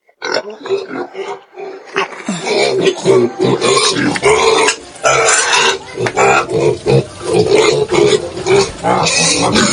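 A piglet grunts and snorts steadily and loudly while being fed, close up, with a person talking at times.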